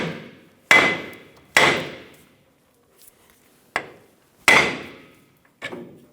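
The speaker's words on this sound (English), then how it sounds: "We're going to give the knuckle a bonk where the tie rod end is to let go of the pressure." A hammer strikes the steering knuckle of a Toyota Tacoma where the tie rod end sits. Six sharp metallic bonks land at uneven intervals, each with a brief ringing decay. A few are softer taps, all close and with no talking.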